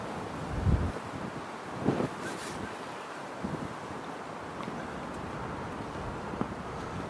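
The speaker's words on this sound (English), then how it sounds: "It's quite scary this because it is really windy." Strong wind roars and buffets inside a power station cooling tower, steady and loud with a few gusting thumps against the microphone.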